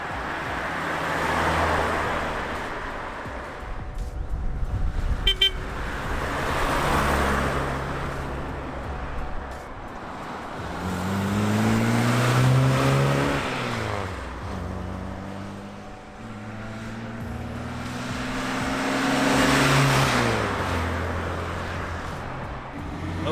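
A 1960 Mercedes 190B Ponton with an M121 engine accelerates onto a highway, engine droning up through rising gear pulls over steady road and wind noise, recorded from inside the car with no talking.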